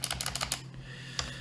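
A computer keyboard clatters with quick, close key presses while code is typed, a burst of clicks followed by a pause and one more tap.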